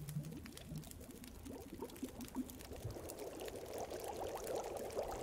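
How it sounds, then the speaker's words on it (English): Water heating over a campfire in The Long Dark, a soft continuous bubbling and simmering that thickens toward the end, with faint crackles alongside and no talking. "Start boiling some water because we really need it."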